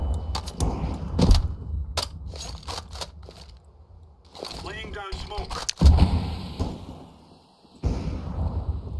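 Flashbang grenade going off in Counter-Strike 2, a sharp loud burst followed by a ringing high tone, set among other clattering game effects, clicks and bursts of gunfire.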